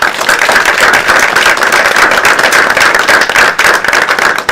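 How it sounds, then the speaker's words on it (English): A crowd applauds steadily, a dense wash of many hands clapping at close range without pause. "How about a great round of applause?"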